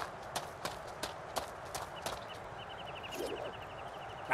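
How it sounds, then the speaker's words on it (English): Horse hooves clip-clop at a steady walking rhythm in a fantasy role-playing game, sharp regular knocks, with faint chirping in the background. "and a horse"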